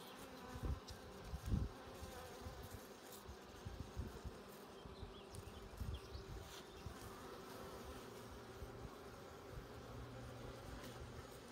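Honey bees buzzing around an open hive during requeening, a faint continuous drone of many insects with individual bees whizzing past up close, punctuated by a few soft knocks and handling noises.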